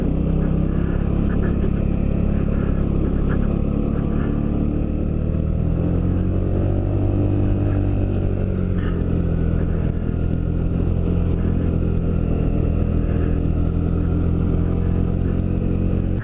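Suzuki Burgman 200 scooter riding on an early spring road past lakefront homes, steady engine drone with wind rumble that rises and falls briefly mid-ride, heard up close from the rider's position.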